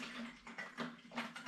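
Wort and yeast slosh inside a fermentation vessel for an all-grain porter, with several short splashing surges in quick succession, fairly quiet and close, with no voices.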